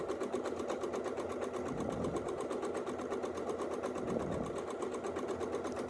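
A sewing machine stitching free-motion quilting in a back-and-forth fill, its needle running in a fast, steady, even chatter with a couple of brief slowdowns, moderately close and with no talking.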